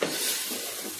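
Rice is stirred into sizzling spices in a pan while cooking khichuri, giving a dense, steady frying hiss close up, with no voices.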